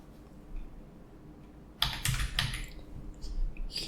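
A short burst of computer keyboard typing, a quick cluster of clicky keystrokes coming in after a quiet stretch, close and fairly crisp, with no talking.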